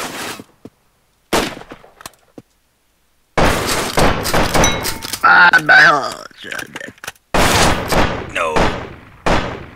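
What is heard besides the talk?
shotgun blasts and gunfire in a video game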